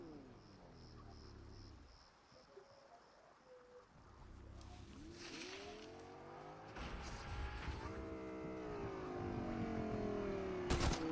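Car driving in the video game Fortnite, engine tones rising and falling with revving, tire squeal and skidding, growing louder toward the end, with no talk.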